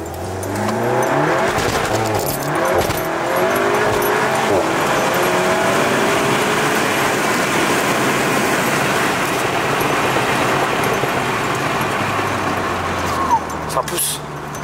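A 400 hp Seat Leon Cupra accelerates hard, the engine note climbing through repeated rising sweeps as it pulls through the gears, loud and close from inside the car, with voices and road noise around it.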